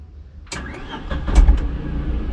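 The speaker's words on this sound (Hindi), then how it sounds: "और अब स्टार्ट करते हैं दोबारा से अपनी टाटा नैनो को" A Tata Nano small car engine cranks and catches after a quiet moment, then settles into a steady, close idle with a slight rev, no talking.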